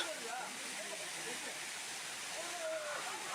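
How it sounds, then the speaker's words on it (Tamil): Muttal waterfall produces a steady, broad rushing roar of falling water, continuous and even throughout with no other sounds standing out. "இந்த முட்டல் நீர்வீழ்ச்சி ஃபால்ஸ்"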